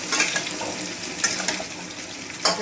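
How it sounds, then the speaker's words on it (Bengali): Water pours into a pan of soybean and potato curry, making a steady rushing splash close by, with brief louder spurts as it is added. "এবারে জল দিয়ে দেবো।"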